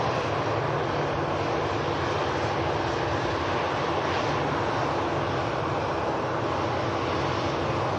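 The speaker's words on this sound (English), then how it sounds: "Brussels Airlines, Airbus A320 on the taxi out." A Brussels Airlines Airbus A320 taxis out at Manchester Airport, its jet engines giving a steady, loud, broadband roar that holds constant throughout without talk.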